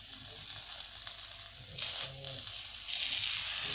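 Gobhi paratha sizzling on a hot pan as butter is spread on it, a soft, steady frying hiss with a few brief swells of crackle, close and quiet, with no talking.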